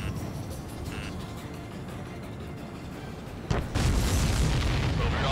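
A supply ship explodes in the Ace Combat 7 air combat game, first a sharp boom and then a sustained loud roaring rumble that runs to the end over steady continuous engine drone.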